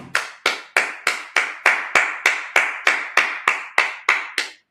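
Sabbath service congregation clapping in unison, about fourteen sharp, evenly spaced claps in a steady rhythm, loud and close, ending abruptly.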